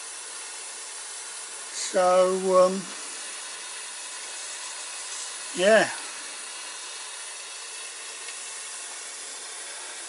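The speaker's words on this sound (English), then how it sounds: "we've got a steam leak up the front because the regulator's not shutting off correctly" Steam hisses in a steady, soft stream from a leaking regulator on a garden railway 0-8-4 live steam locomotive that is not shutting off properly. Someone talks briefly over the hiss.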